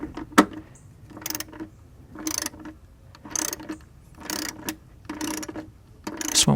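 A ratchet tightens bolts on a GM OBS Chevy/GMC truck during a cruise control repair, with rapid clicking bursts repeating about once a second, close and fairly loud.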